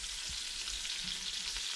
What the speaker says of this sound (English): onions and the bell peppers. To saute.